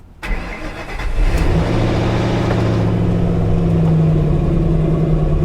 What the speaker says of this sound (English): Let's see if she runs.